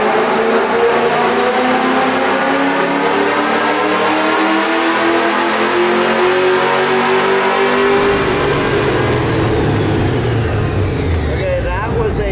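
A Ford Mustang engine roars on a dyno through a full pull, its pitch climbing steadily for about eight seconds before the revs drop away and wind down, loud and close throughout.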